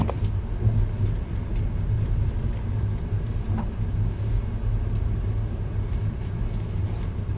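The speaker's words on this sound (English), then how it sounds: "Let the car roll. Hold it, hold it, hold it. Car's rolling, clutch out." A manual-transmission car rolls along slowly with the clutch fully released, giving a steady, close, low engine rumble that holds an even level throughout with no voices.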